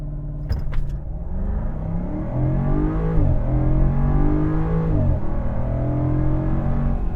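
Supercharged V8 Land Rover Defender 90 launching from a standstill in a 0 to 60 run, the engine note climbing through two gear changes with loud, sustained roar and a brief click at the start.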